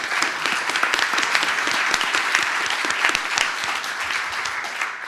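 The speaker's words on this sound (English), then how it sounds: "Can we have a round of applause?" Audience applause for event sponsors at an MIT Enterprise Forum panel in a town hall, steady dense clapping from a sizeable crowd holding an even level throughout.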